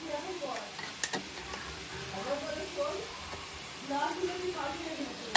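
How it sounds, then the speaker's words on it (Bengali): Browned onions fry in a pan as ginger garlic paste is added for a mutton curry, with a steady close sizzle and occasional stirring scrapes under a person talking. "অনিয়নটা মোটামুটি ব্রাউন হয়ে গেছে, ওর মধ্যে একটু দিয়ে দেবো আদা রসুনের পেস্ট।"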